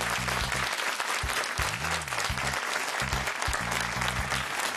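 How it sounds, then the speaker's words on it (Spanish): A studio audience on a Spanish TV quiz show applauds the blue team, with steady dense clapping throughout and a low musical jingle of repeated tones playing underneath. "Denme un aplauso al equipo azul, lo merece."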